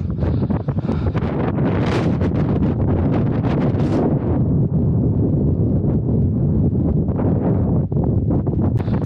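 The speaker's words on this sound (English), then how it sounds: "you can see how horrendous the wind was" A strong, gusting mountain wind roars continuously and loudly across the microphone, buffeting it with heavy rumbling noise that eases slightly midway but never drops out; no one speaks.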